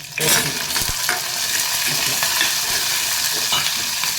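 Onions and green chillies fry in hot oil in a pan, giving a steady, close, continuous sizzle with occasional stirring scrapes throughout.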